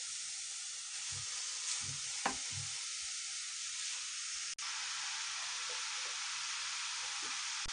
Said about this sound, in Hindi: अब मैं इस गाजर को अच्छे से भून लूंगी